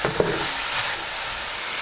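Leek, celery, onions and garlic sauté in a Dutch oven, giving a steady, soft sizzle with one small knock of a utensil near the start. No one speaks.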